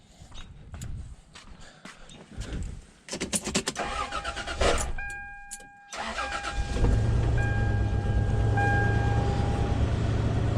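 Car engine, freshly repaired after a misfire and gasket trouble, cranks with clattery bursts and catches, then settles into a steady, smooth idle with a whining tone, close by.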